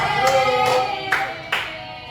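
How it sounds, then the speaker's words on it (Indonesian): A teacher leads a classroom in a rhythmic spirit clap: four crisp, evenly spaced claps ring out over a steady tonal background, with no talking. "Ibu ada tepuk semangat dulu biar kalian semangat"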